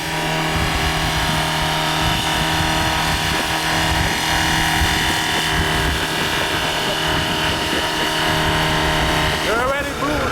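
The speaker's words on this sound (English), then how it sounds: "It's using all the oil in the engine. It's running on that, not gas." A broken-down taxi in Senegal, its engine running on oil instead of fuel, gives a steady, rough drone with a constant hum throughout while people talk over it.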